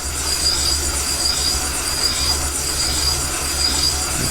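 A line-boring bar cuts the bore of a cast bolster on a Minneapolis-Moline prototype tractor, giving a steady, close, loud grinding, rumbling scrape with a metallic ring that carries on unbroken.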